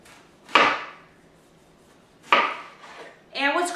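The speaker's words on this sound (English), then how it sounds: "I'm going to go ahead and just cut this into pieces" Knife strikes on a cutting board while an heirloom tomato from a farmer's market is cut into pieces: two sharp, clear chops, then a brief scraping clatter at the end, close by with quiet pauses between.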